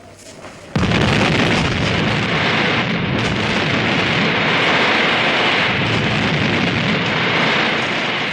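A large explosion in a TV spy drama, triggered by a timer, erupts suddenly after a quiet moment and becomes a sustained, loud roaring rumble of blast and debris that continues for several seconds without talk.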